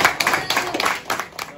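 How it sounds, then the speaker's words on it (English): A classroom of students claps for an award winner, a dense round of close hand claps running steadily throughout with no talk over it. "Can we give Noah a round of applause"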